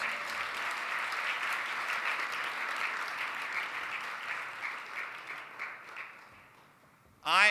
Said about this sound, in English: Let's give these gentlemen another round of applause.